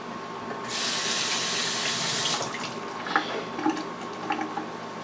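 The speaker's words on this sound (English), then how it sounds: "I had to wash my hands, it was getting sticky." A kitchen tap runs steadily for a couple of seconds as sticky hands are rinsed, then shuts off, leaving faint drips and small splashes.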